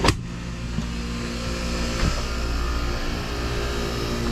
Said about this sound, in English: Compressor started.